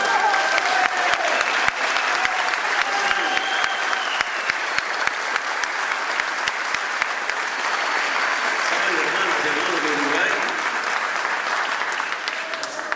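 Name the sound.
young audience applauding Evo's speech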